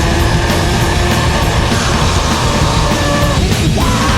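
A voice imitates a harsh, strained rock-singer scream, loud and continuous for several seconds with a raspy, distorted edge.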